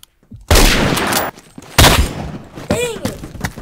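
Loud sniper rifle shots ring out in the Roblox game Phantom Forces, two heavy cracks with rumbling tails, followed by a shorter ringing, whooshing effect.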